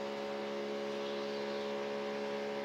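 A NASCAR Truck Series engine heard onboard with Denny Hamlin during qualifying at Las Vegas, held at full throttle as a loud, steady, buzzing drone with no letup.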